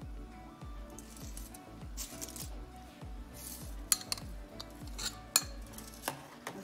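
Cream being stirred into boiled cardamom milk for rasmalai, a rhythmic series of soft spoon strokes and clinks against a pot, fairly quiet and close, with no talk.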